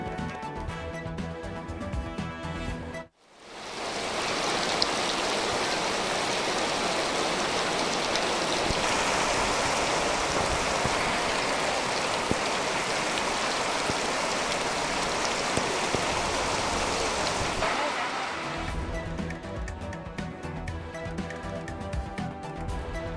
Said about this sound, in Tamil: டெல்டா மாவட்டங்களில் வெளுத்து வாங்கிய கனமழை